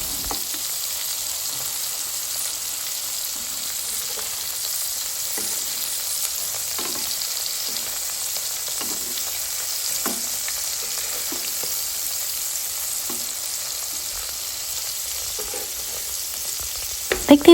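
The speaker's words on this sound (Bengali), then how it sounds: "যখন নিচের সাইড ভাজা হয়ে আসবে, তখন আমাদের এগুলো উল্টিয়ে অপর পাশেও ভেজে নিতে হবে" Eggplant slices coated with egg fry in a pan, giving a steady, even sizzle throughout with occasional soft clicks and taps of utensils, and no one speaking.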